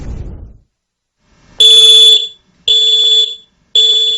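A loud, piercing electronic alarm from an ionization smoke detector sounds in three long bursts with short gaps between them, shrill and close, following a moment of quiet.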